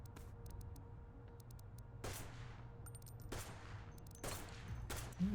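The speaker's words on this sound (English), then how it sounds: "And also for the pistols. By the way, you can shoot them while being in that menu." Pistol shots in the VR game STRIDE, several sharp separate bangs spaced a second or so apart over a low steady background hum, fairly faint.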